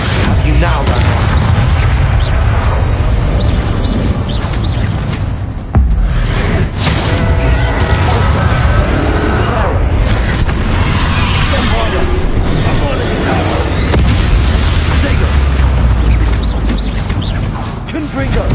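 Bombarda spell explosions in the Hogwarts Legacy video game: loud, dense booming blasts and crashing debris that run nonstop, with a brief dip midway, under and alongside speech.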